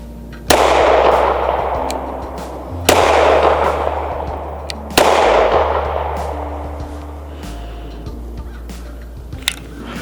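A pistol fires 9mm 115-grain Blazer rounds: three loud, sharp shots spaced about two seconds apart, each trailing a long echoing decay, with a small click near the end.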